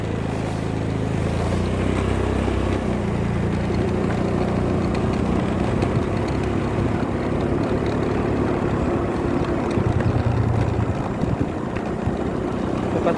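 Motorbike riding at 30 to 40 km/h, heard from the rider's position: a loud, steady low engine rumble mixed with wind noise that runs continuously without a break.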